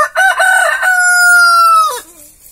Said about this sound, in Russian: Домашний петух.